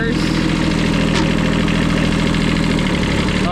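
An old Japanese tractor engine runs at a steady idle, a continuous close mechanical drone with a rapid low pulse and a brief clank partway through.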